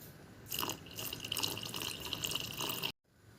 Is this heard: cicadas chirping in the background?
no